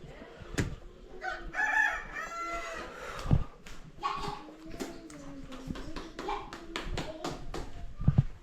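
Hens cluck and a rooster crows amid people talking nearby in a village morning, with a dog and scattered knocks in the background.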